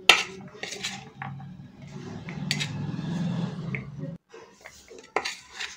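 Peanuts being tossed and mixed with gram flour in a bowl for pakoras, giving soft scraping and stirring with a few sharp clinks of a spoon against the dish, close up, no talking.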